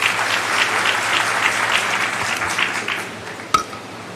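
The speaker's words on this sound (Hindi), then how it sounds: "तालियों से स्वागत करें।" Audience applause welcoming a presenter at a Chhattisgarh government event on an unemployment allowance scheme, a steady, moderately distant wash of clapping from a seated crowd with one sharp knock near the end.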